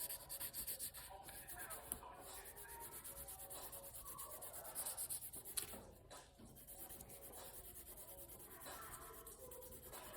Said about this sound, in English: This is if you're using coloring pencils.